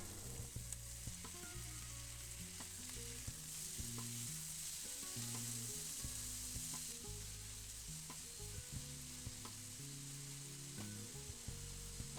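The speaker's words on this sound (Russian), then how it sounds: "Перемешайте и жарьте на среднем огне еще 2-3 минуты." Steady sizzling of vegetables and tomatoes frying in a pan over medium heat, a constant crackling hiss with occasional stirring clatter, close and fairly loud throughout.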